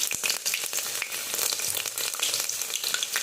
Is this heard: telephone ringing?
no